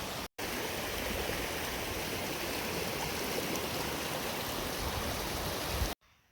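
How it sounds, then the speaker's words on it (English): The Rattle River on the Appalachian Trail flowing steadily, a continuous broadband rushing of water heard close and even, with no talking, cut short by brief breaks at the start and end. "probably gonna go for a little dip in this stream here, the Rattle River"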